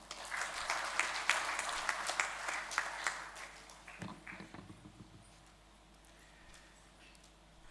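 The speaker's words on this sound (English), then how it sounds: "Join me for a heartfelt round of applause for Dr." Audience applause at a university engineering induction program, dense clapping from a large crowd for the first five seconds, then thinning out and fading to quiet.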